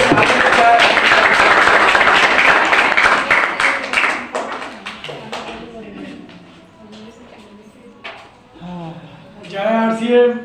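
An audience at an RCM network-marketing meeting in Rampur claps in a dense burst that thins out after a few seconds, followed by someone speaking into a microphone.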